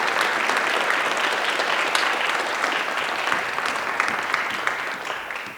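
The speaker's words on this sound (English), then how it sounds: "why don't we momentarily give those students a round of applause" Audience applause at a student awards ceremony honoring award-winning students, a steady, dense wash of many hands clapping that holds for several seconds before tapering slightly at the end.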